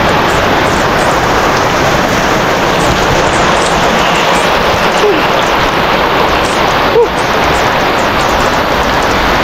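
Heavy rain pours down steadily in a dense, loud hiss with no thunder, a constant downpour filling the whole stretch with a couple of faint background sounds.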